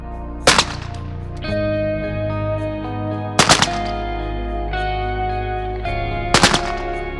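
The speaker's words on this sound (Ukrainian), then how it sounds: "поклали до могили під трикратні автоматні залпи військового салюту" Three short bursts of automatic rifle fire at a military funeral salute in Kryvyi Rih, each volley loud and sharp, spaced about three seconds apart over a sustained choral drone of people singing the national anthem.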